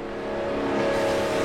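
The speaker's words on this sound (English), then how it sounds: "but it's a very shouty engine as well" A 180-horsepower car engine revs hard and loud up close, a steady, harsh, shouty drone holding through the whole short stretch with no talking over it.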